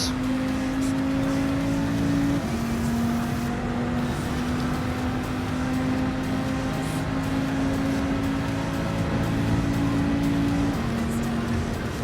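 A race car engine holds a steady high drone while lapping the Daytona circuit, with brief pitch dips at gear changes and constant road and wind noise underneath.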